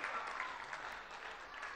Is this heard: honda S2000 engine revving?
no